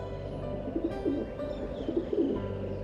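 A cartoon sound effect of a bird cooing, soft, rolling pigeon-like coos repeating over a steady background bed with no voices.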